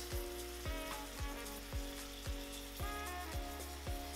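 Pepper filling with black beans and corn cooking together in a pan gives a steady, close sizzle. Regular scrape-and-stir strokes land about every half second, with no voices.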